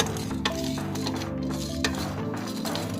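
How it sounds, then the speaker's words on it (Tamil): Black pepper and cumin dry-roasting in a pan for a homemade masala, with a soft sizzle under repeated clinks and scrapes of a spoon stirring against the metal, close and fairly quiet. "இப்போ நம்ம மிளகு ஜீரகம் ஃப்ரை பண்ணிகிட்ருக்கோம்."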